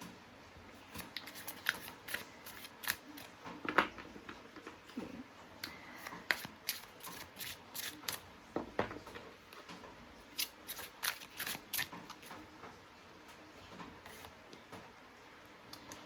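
Tarot cards are shuffled close by in a quiet room, a soft, continuous run of riffles, slides and crisp flicks of card edges.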